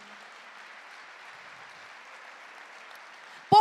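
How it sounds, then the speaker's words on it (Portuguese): A church congregation applauding, a steady, soft wash of clapping from many hands throughout, ending in a sudden loud thump. "Vamos dar mais um aplauso ao Senhor nessa noite."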